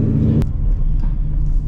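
A Corvette C7's exhaust, with something sounding loose, gives a steady deep rumble heard close up from the car, with no talking.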